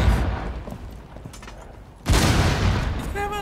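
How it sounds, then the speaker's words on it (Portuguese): Gunfire and grenade explosions in a Rainbow Six Siege match: rapid shots crackle, then a loud, booming burst of blasts erupts at about the midpoint and keeps rumbling. "Nossa, a granada tá comendo solta aqui."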